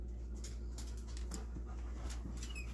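Four dogs indoors whimpering and panting, with faint high whines and breathy huffs over a steady loud hum of room noise, with no talk.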